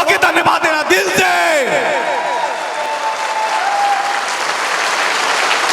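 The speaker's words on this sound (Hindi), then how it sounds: "जोरदार ताली, हल्ला बोल के खड़े होके अपनी सीट पे खड़े" Loud applause from a large seated audience at a speech event, dense and steady throughout, with a speaker's amplified voice ringing out over the clapping at the start.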